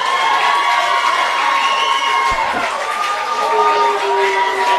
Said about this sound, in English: Might be cheers and boos in equal measure here